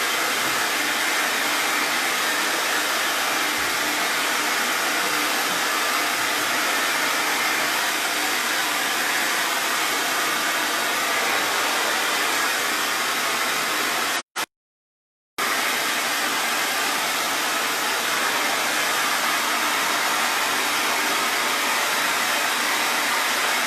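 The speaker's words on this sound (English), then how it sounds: "I just want to dry it quickly with the hair dryer" A hair dryer blows steadily on wet ceramic glaze, a loud, continuous broadband whoosh that runs unbroken apart from one brief cut-out partway through.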